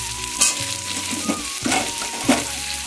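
Chunks of pumpkin and potato fry in hot oil in a pan, a steady close sizzle broken by a few louder crackling bursts as the pieces are stirred, with no talk.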